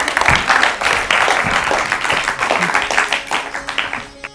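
Studio audience on an Urdu-language quiz programme breaks into sustained, dense clapping that stays loud and steady for several seconds before thinning out into scattered claps at the end.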